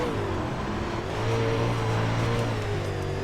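A race car engine in iRacing, previewing cars for the Chili Bowl dirt-track event, drones steadily with a sustained mid-pitched tone that rises slightly partway through, loud and continuous.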